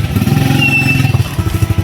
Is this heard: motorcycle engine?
yes